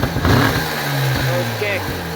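A two-stroke motorcycle engine fires up after kick-starting and revs briefly, a close, loud buzzing engine note with someone speaking over it.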